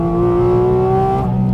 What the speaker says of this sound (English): It will also play tunes on the throttle.